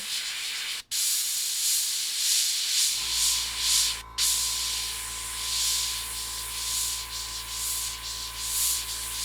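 Gaahleri GHAD-39 airbrush spraying paint at higher air pressure, a steady close hiss of air and spray that holds throughout, with a low constant compressor hum joining partway and two brief dropouts.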